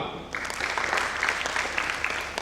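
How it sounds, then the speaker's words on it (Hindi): An audience claps through a cast introduction after a stage play, a lively, dense burst of applause that starts abruptly and keeps a steady, close rhythm to the end. "ताली बजती रहनी चाहिए"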